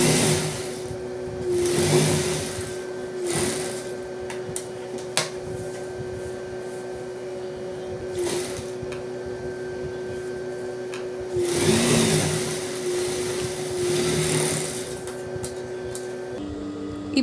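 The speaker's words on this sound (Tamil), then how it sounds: "அதே மாதிரி இதையும் மடித்து வச்சு இந்த லாஸ்ட்டில் ஒரு தையல் போட போகிறோம்." A sewing machine runs in steady bursts while stitching the folded hem of a Patiala pant, its motor hum starting and stopping several times at close range with no talking.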